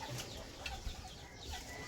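A hen clucks softly a few times, fairly close, against a quiet outdoor background.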